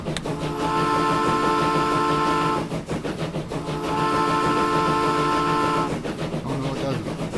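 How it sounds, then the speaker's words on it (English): Two long, steady train horn blasts from the video game Transport Fever 2 sound one after another with a short gap between them, loud and harmonically rich. "Sound the horn, let him know we're leaving the station."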